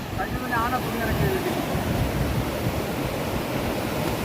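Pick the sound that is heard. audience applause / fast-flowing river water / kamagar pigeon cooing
fast-flowing river water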